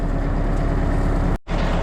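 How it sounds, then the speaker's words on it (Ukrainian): Powerful tractor engine straining while pulling bushes out of the ground, a loud, steady low rumble close by that cuts out briefly near the end. "Оце трактор мощний, я навіть і не ожидав."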